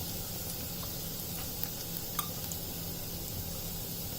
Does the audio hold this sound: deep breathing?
no